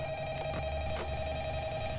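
Telephone in the Five Nights at Freddy's video game ringing at the start of the second night, a steady electronic ring tone held at low volume throughout.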